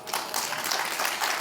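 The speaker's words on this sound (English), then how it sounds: "the crowd goes, "Aww," like that" An audience at a public event with General Petraeus lets out a collective sympathetic 'aww', a dense, continuous wash of crowd voices that stays loud and steady throughout, with no single speaker standing out.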